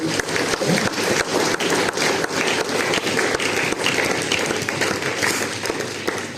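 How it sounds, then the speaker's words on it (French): Dense, steady applause from an audience at a Christian worship concert in a church in Mouscron fills the whole stretch, many hands clapping close and loud without pause. "On peut applaudir le Seigneur."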